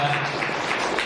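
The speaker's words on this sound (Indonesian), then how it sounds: "Boleh kasih tepuk tangan kepada" Audience clapping at a parenting seminar, a short burst of steady, dense applause filling the room at moderate loudness.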